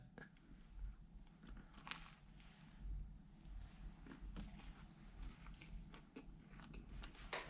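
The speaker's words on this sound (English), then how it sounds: "I'm gonna enjoy some donuts. One cinnamon donut." Cinnamon donut bitten and chewed close up, soft crunchy bites followed by moist chewing in an irregular rhythm, faint and up close with low background noise and no talk.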